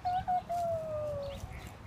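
A chicken or rooster at a farm lets out one drawn-out, falling crow-like call that lasts over a second, moderately close, with faint farm ambience beneath.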